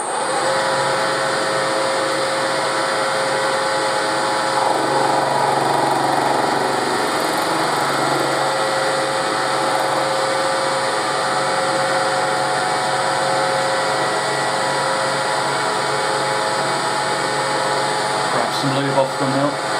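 A milling machine takes a 0.5mm cut while a clutch tool is made, giving a loud, steady motor whine with a continuous grinding cutter tone that holds evenly from start to finish.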